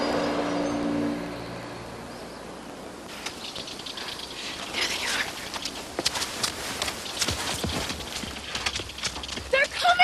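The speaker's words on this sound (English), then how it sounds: "They're coming! The horses and Jamie!" Horses in a 1999 family Viking film clatter closer, their hooves clip-clopping in a rapid rhythm that grows louder, mixed with rustling and other film sounds, while people talk.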